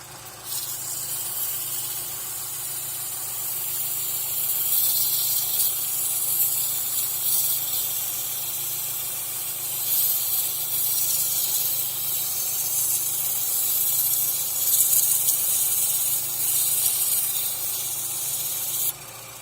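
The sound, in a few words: wire brush scrubbing rust off Isuzu 4ZE1 V-groove pulleys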